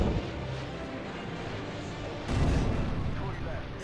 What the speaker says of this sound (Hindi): ये जी मिसाइल ऑनलाइन हो चुकी है हम यूज़ कर लेते हैं